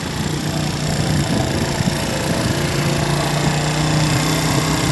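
A small gasoline engine, its carburetor in need of work, runs steadily and close by with a rough, buzzing drone, much like a lawn mower motor idling unevenly. No voices are heard over it.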